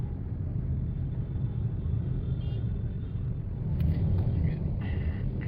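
Low, steady road rumble and engine hum inside the cabin of a Hyundai Palisade Signature 2.2D diesel while driving, a constant muffled drone with a few faint ticks and chimes near the end.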